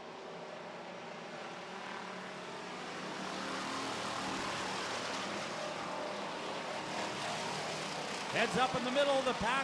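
Pure stock race cars roar down the back straightaway of an oval track, a continuous distant engine drone swelling slightly as cars pass, under a commentator's running call.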